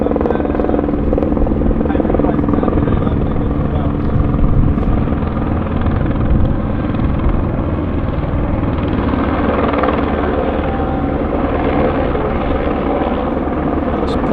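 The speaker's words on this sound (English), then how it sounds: "The helicopter's back" A helicopter flies near Vancouver Airport with a continuous loud rotor drone and engine roar, steady and close for the whole stretch, while a voice talks over it.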